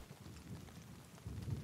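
Rain in the video game The Last of Us Part II, played on PlayStation, falls as a soft, steady hiss with low rumbling underneath. It swells slightly louder toward the end, and no voices are heard.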